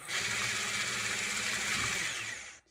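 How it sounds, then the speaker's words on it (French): Electric hand mixer beating condensed milk and icing sugar for a homemade McFlurry, a steady high whirring drone running close and loud for over two seconds before cutting off. "on prend un batteur et on mélange tout ça"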